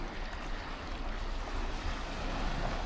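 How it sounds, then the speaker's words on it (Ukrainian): Sea waves along a rocky shore, a steady broadband wash with a low rumble, continuous and moderately loud, wind noise mixed in and no voices. "Я вийшла на секундочку показати вам море."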